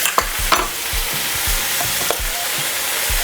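Ginger garlic paste crackles and hisses in a hot pan for an alligator stir fry, with quick repeated scraping stirs and light utensil taps up close, no voices.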